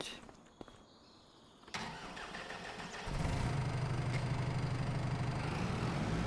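Tractor engine cranking and catching in Farming Simulator 25, with a brief click, a rising whir, then a steady loud rumbling idle that holds through to the end, no voices.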